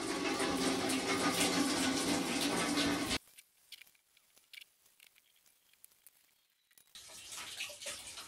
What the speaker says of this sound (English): So now basically I'm just going to rinse this and see what we got.